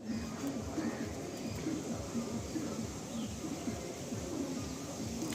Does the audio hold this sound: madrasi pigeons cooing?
yes